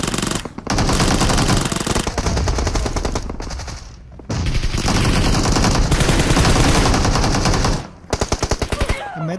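Loud, rapid automatic gunfire from a PUBG video game fight, coming in long continuous bursts with brief pauses between them.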